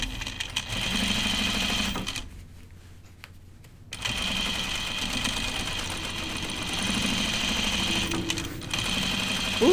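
A home sewing machine stitches Ginger jeans denim in a steady mechanical whir, pausing briefly for a couple of seconds before resuming its close, even run.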